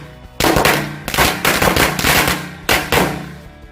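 Mercon korek firecrackers explode outdoors in rapid clusters of sharp cracks, with several loud bursts in a row and brief gaps between them.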